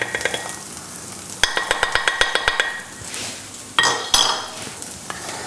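A metal spoon stirs and spreads Indian spices in a one-pot cooking pot for a chicken sauce, making a quick run of rhythmic clinks and taps, then a few louder scrapes and knocks against the pot.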